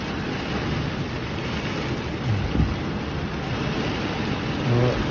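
A rainstorm at the St. Lawrence County Fair in New York pours down as a dense, steady hiss with a low rumble underneath, and nobody speaks.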